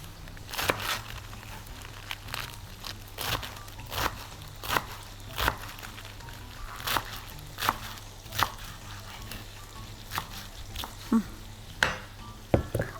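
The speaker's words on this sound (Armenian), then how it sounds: "Ավելացում եմ հավերը կամ հավի կրծքամիսը, որպեսզի տապակվի։" Chicken breast fries in a pan with a steady, close sizzle, broken by regular knocks and scrapes as it is stirred about once a second. No one speaks.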